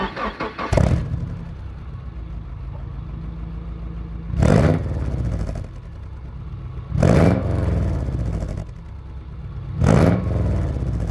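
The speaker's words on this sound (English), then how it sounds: "So there's a little exhaust clip for you guys." A Subaru 2.5 RS engine with unequal length headers idles with a deep burbling exhaust, revved sharply four times, each loud blip dropping back to a rumbling idle.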